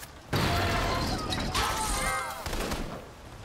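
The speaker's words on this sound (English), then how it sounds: "Who was shooting at me?" Enemy gunfire in inFamous Second Son erupts in a loud rapid burst aimed at the player, then keeps crackling with crashes and impacts while fading slightly toward the end.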